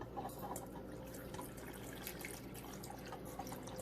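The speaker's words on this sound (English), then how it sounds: "Now I'm gonna go ahead and pour the mixture inside and let this baby do its thing" Pickling liquid poured over vegetables in a jar, a quiet steady trickling and splashing stream with faint drips, close and continuous over a low background hum.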